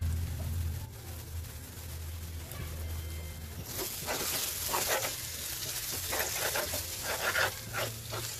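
Tomatoes fry in a pan for mutton kheema fry, a soft sizzle under faint background hum that swells into louder crackling and stirring bursts in the second half; no talk.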